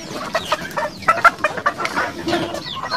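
A flock of chickens clucks nearby in a farmyard, with soft, overlapping, irregular calls.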